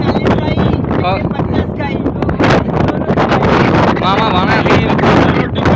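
Steady wind buffets the microphone throughout, a constant roar beneath a person talking over it, outdoors in Dwarka, India.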